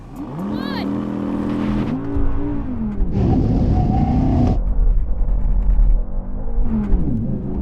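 Several sports cars, including a BMW M8 and an Audi R8, launch from a drag race start with loud, rising engine roar and revving that swells and holds for several seconds, with voices talking over it.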